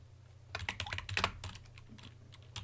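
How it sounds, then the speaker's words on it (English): Keys clatter on a computer keyboard as a Linux install command is typed, a quick irregular burst of close, quiet keystrokes over a low steady hum. "You just type that, and then just type apt install."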